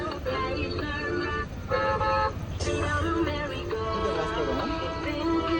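A vehicle horn stopped at a traffic signal gives long, held honks, with a brief gap and then a longer sustained blast over steady road rumble; fairly close and loud.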